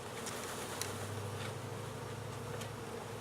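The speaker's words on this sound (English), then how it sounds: "So the rest of the bees in here will find their way" A steady, low insect hum of many honey bees buzzing together while being installed in a hive, continuous and fairly quiet, with no voices.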